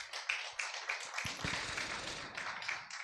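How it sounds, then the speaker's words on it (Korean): Dense applause from a lecture audience, steady clapping filling the room for a few seconds with a sharp tap or two near the start. "그리고 또 재미있게 설명을 해주신 부산대학교 교양교육원의 송성수 원장님께 여러분 큰 격려의 박수 부탁을 드립니다."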